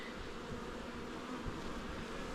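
Wasps swarm around a weak nucleus beehive, and a faint, continuous insect buzz hums through the whole stretch without pause, quiet and distant with no voices.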